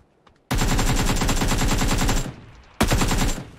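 A mini KTZ minigun fires in PUBG New State, a loud continuous rapid-fire burst of about two seconds, then a short pause and a second sustained burst.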